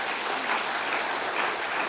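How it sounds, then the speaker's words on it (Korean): A church congregation claps together during a dawn revival service, steady dense applause filling the room for a couple of seconds with no talk over it. "우리 한번 박수 한번 쳐줘요"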